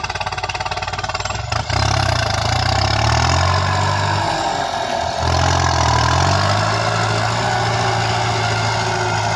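A Kubota M9000 tractor engine runs steadily close by, a loud diesel idle with its low hum rising and dipping as the revs shift, continuous throughout.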